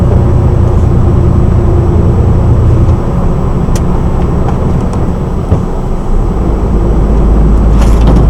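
A truck joins the A4 motorway in France, with a steady, loud low rumble of engine and road noise from inside the cab, with no speech.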